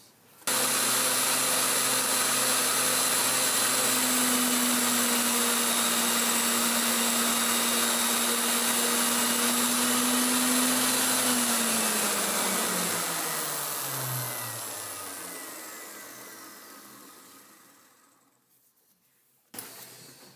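A grinding wheel makes a trial cut on R8 tooling for a Bridgeport mill, a loud, steady motor whine with a high hiss that holds for several seconds, then winds down in falling pitch and fades, ending with a brief clunk.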